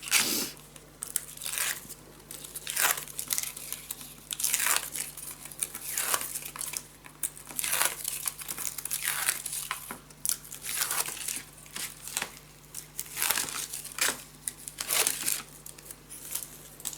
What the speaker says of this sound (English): let's peel it off